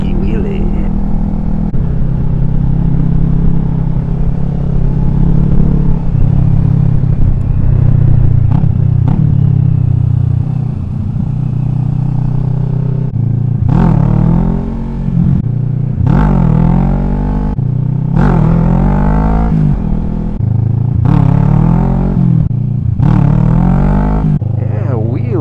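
A sport bike engine rises and falls in repeated revving surges during wheelie practice, over steady low wind rumble, with a rider's voice speaking at times.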